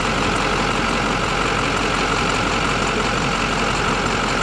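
A 2005 Duramax diesel engine idles during an injector flow test, a loud, steady, close low rumble with knocking texture and no talk.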